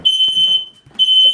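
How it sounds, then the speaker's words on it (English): Smoke alarm going off in a home kitchen while pizza cooks: loud, piercing high-pitched electronic beeps in two long bursts separated by a short gap, heard alone. "the alarm is going off."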